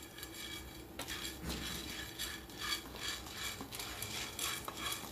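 Lentils are dry-roasted in a pan and stirred, with a spoon scraping and rattling the grains in a steady rhythm of repeated strokes.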